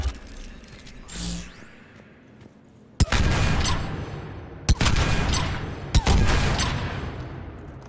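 Sniper-like rifle firing in Mass Effect Legendary Edition, three sharp loud shots spaced a second or two apart, each with a crack followed by a ringing, rumbling tail over quiet background.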